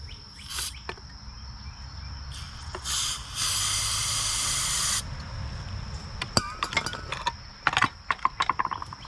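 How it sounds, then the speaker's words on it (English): Starting fluid is sprayed from a can into the side-mounted carburetor of an engine in one sustained hiss of about two seconds. Clicks and small handling knocks come before and after it, and the whole scene is fairly quiet. "So we'll put a little starting fluid."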